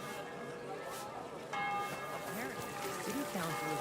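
Midday church bell in Kingdom Come Deliverance II strikes with a clear ringing tone partway through, sounding moderately near over ambient town noise, while someone speaks over it.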